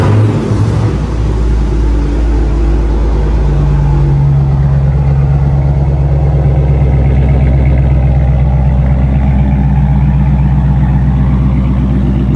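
A car engine rumbles loudly and close, revving up and holding a deep, throaty drone that shifts pitch as it settles.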